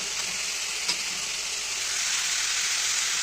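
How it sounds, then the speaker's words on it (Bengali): Turmeric, Kashmiri chilli and cumin fry in hot oil in a home kitchen, a steady close sizzle with a brief stir near the start. "একটু ভালো করে ভেজে নিয়ে তেলের সঙ্গে তারপর আমি একে একে সব ইনগ্রিডিয়েন্টসগুলো দিয়ে দেবো"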